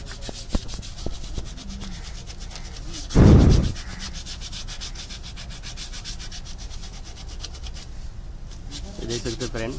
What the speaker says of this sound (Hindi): ये हमारा राइट साइड का रियर ब्रेक लाइनर है, जिसे हम पॉलिश पेपर मारकर उसका जो हार्ड मेटल है उसे निकाल रहे हैं